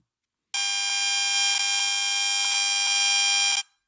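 Bluetooth radio frequency emissions rendered as audible sound: a steady, harsh, buzzing electronic tone that holds loud and unbroken for about three seconds, then cuts off abruptly.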